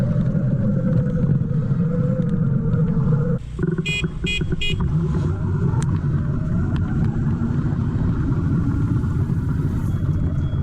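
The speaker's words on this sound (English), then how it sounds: "We're gonna do a little drag race." Two electric dirt bikes, a Segway X160 and a Sur-Ron X260, drag race with a rising whine under a steady roar of wind and motion, and a brief series of sharp beeps partway through.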